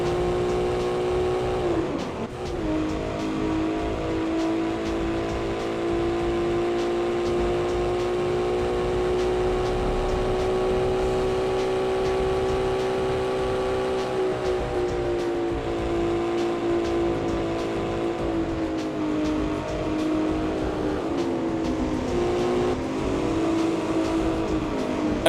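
A Ferrari F50 engine in a racing game mod, a sustained loud tonal drone that holds steady and shifts pitch slightly as the car drives on, with no talking.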